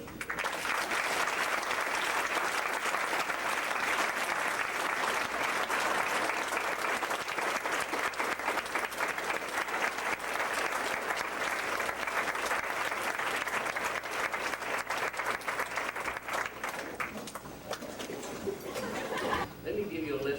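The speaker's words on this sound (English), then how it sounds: "just give them a round of applause." An audience at a 1991 high school football banquet applauds, with sustained, thick clapping for roughly seventeen seconds before it thins out, mixed with a little laughter and chatter at the end.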